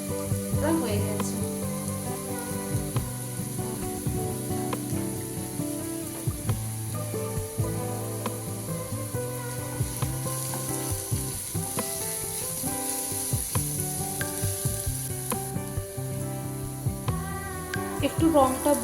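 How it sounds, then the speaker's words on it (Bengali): Garlic and chopped green chilli sizzle steadily in a pan, a constant bright frying hiss with a few faint knocks from stirring, continuing throughout without talk. "রসুনটা ভাজা ভাজা হয়ে গেলে বেশ ভালো লাগে, আর কাঁচা লঙ্কা কুচি"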